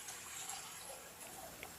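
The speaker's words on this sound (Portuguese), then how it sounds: "Vou enchê-lo de água." Water pours steadily into a freshly cast cement vase sitting back in its mold, a soft, continuous filling wash heard close and alone.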